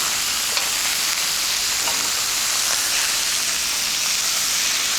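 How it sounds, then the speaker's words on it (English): Steady, close crackling sizzle of beef shin frying in a hot pan, a dense hiss with scattered pops, continuous throughout with no talking. "You know it's ready when you get that lovely sizzling sound."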